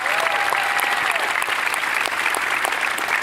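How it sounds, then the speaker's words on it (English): A large audience at Canva Create 2025 claps continuously, a dense, steady wash of applause filling the space with no pauses. "Big clap for them."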